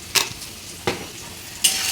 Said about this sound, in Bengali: আলু ভাজাটা নেড়ে চেড়ে একটু জল দিয়ে দেব